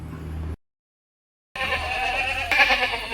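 A large dairy goat that gives about 1.5 litres of milk, at a livestock sale in rural Kerala, bleats loudly and close by in two bursts separated by a second of silence.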